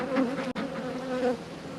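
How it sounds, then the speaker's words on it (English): Honeybees from a laying-worker colony buzz in a dense, steady drone as they are shaken out onto grass, with a brief thump partway through and the hum continuing close and loud. "shaking all the bees out in the grass"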